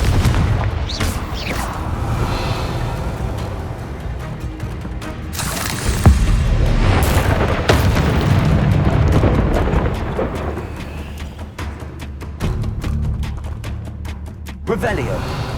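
Deep booming spell explosions from Bombarda and Confringo in Hogwarts Legacy, heavy rumbling blasts layered with crackling impacts and game effects, while a voice talks throughout.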